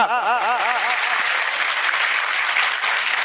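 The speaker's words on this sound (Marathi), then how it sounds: "जोरदार टाळ्या एकदा आजीसाठी वाजवा" A crowd gives loud, sustained applause for a grandmother at a poetry event, a dense continuous clatter of clapping filling the whole stretch. A brief singing-like voice is heard at the start.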